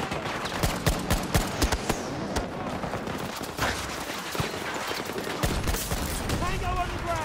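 Rapid video game gunfire crackles in dense bursts, sharp repeated shots and automatic fire close by, continuing throughout with voices talking under the shooting.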